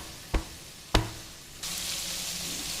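Garlic hitting hot oil already crackling with mustard seeds, curry leaves and onions for tamarind rice: two sharp knocks, then a sudden steady sizzle that continues close and even.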